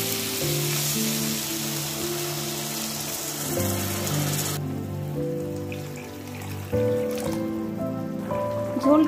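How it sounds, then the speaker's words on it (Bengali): Water poured into a pan of fried potatoes and spices sets off a loud, close sizzle that dies down and changes to softer bubbling, then flares again near the end. "এবার জল দিয়ে দিব।"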